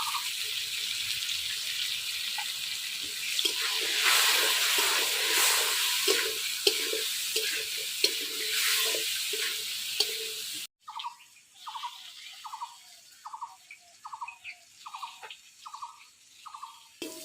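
Potatoes and eggplant fry in a pan, a bright crackling sizzle filling the first part, then sharper bursts of spitting and popping in a repeating rhythm as the pieces are stirred.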